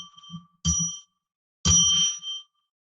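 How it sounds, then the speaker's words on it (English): A bell rung at the start of a psychic radio broadcast, sounding clear metallic dings, a soft first tap followed by two louder ringing strikes that sustain and decay, alone in a quiet room. "So now we're going to ring a bell 3 times to declare sacred space."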